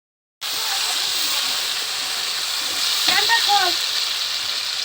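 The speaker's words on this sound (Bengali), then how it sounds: "টমেটোটা দিয়ে দিচ্ছি তেলের মধ্যে।" Tomato and green chili dropped into hot oil, a sudden loud sizzle bursting in and holding as a steady bright hiss, with brief stirring scrapes and a faint voice underneath.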